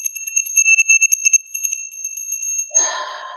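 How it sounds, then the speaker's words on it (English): A small bell is struck repeatedly in quick succession at the start of a meditation, each bright ring overlapping into a sustained shimmering tone that fades before a brief rustle. "I'm going to ring this bell to clear out"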